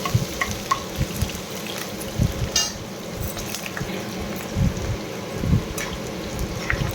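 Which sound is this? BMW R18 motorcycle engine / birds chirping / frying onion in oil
frying onion in oil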